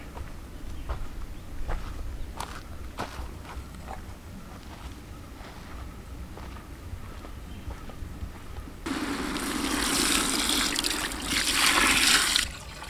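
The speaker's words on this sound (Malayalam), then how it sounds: "ഇതിലേക്ക് ഇനി ലാസ്റ്റ് ആയിട്ട് നമുക്ക് കുറച്ച് വെള്ളം ഒഴിച്ചു കൊടുക്കാം" Water poured into a pot of buffalo head curry, a steady rushing splash that starts partway through after quieter scattered clinks and shuffles, growing louder toward the end.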